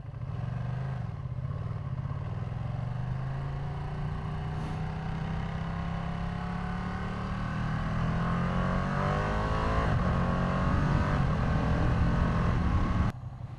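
A Ducati motorcycle is ridden along a road, its engine droning loud and close with steadily rising pitch as it accelerates through the gears, plus wind rush.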